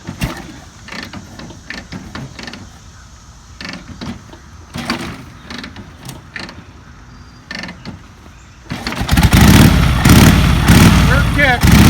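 A 1957 Harley-Davidson Panhead motorcycle engine: soft mechanical clicks and creaks from the bike, then a loud, close engine bursts into steady running for the last few seconds.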